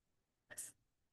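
A single short, sharp sneeze sounds once, faint and isolated, within a quiet classroom-style chemistry lecture.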